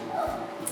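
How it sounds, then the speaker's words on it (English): A female dog gives a short, high whine indoors, brief and fairly faint against a quiet room. "that's my dog whining at me because she probably wants to eat again"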